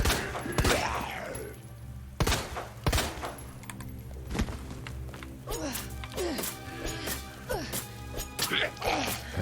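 Gunshots from a handgun at zombies in Resident Evil 2 Remake, several loud sharp bangs spaced irregularly over a low droning game soundtrack, with scattered impacts and a voice talking between shots.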